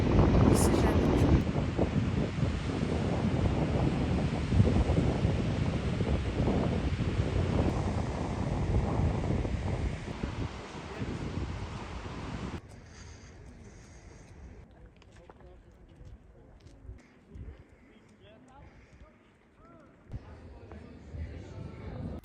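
Sea waves wash against the shore under gusting wind that buffets the microphone loudly for the first half, then the roar drops to quieter, more distant surf with faint scattered sounds.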